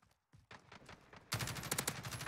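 Gunfire in the Call of Duty Warzone video game: a few quiet pops, then a loud, rapid string of close shots cracking in quick succession for about a second.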